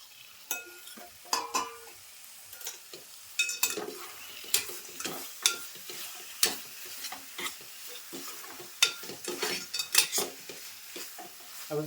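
Prawns and sliced potatoes frying together in a pan in a home kitchen, with a soft sizzle under repeated scraping and clattering stirs.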